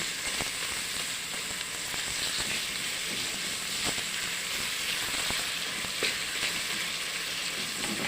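Carrots and translucent onion sizzling in a pan for a zucchini puree soup, a steady dense hiss of frying throughout with occasional faint stirring clicks, close and continuous.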